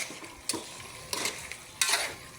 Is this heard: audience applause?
no